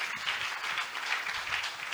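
A church congregation applauds Jesus in steady, dense clapping that fills the space evenly from start to finish, with no one speaking over it.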